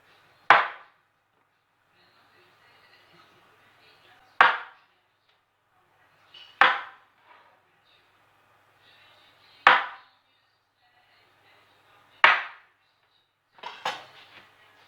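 A knife cuts chilled sablé breton pastry dough into 2 cm slices on a board, with six sharp, evenly spaced chops every couple of seconds and faint scraping between them.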